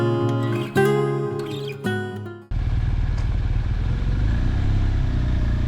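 A motorcycle ridden along a narrow road at night near Kukup, with a steady close engine drone and rumble after a sharp start, running alone without talk.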